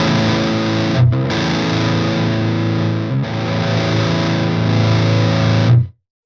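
Distorted electric guitar through the Mercuriall Euphoria amp sim set to class A mode, loud sustained chords with two short breaks, ringing out and stopping abruptly.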